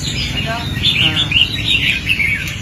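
Caged red-whiskered bulbuls of the Vietnamese type sing short bright warbling phrases, several quick chirpy notes in succession, close and clear over a low murmur of background noise.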